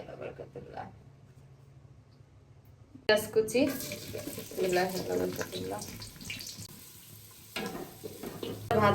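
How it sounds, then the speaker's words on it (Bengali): Oil frying in a cooking pot for khichuri starts quiet, then breaks into a loud crackling sizzle with splashy, watery bursts. A person talks over it. "খিচুড়ি রান্নার জন্য এই যে এই হাঁড়িটা বসিয়ে দিছি এখন তেল দিয়ে দেবো ভাজা"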